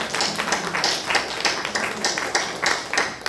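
A church congregation at a Sunday worship service claps together for about three seconds in an even, rhythmic beat, fairly close and with no talk over it.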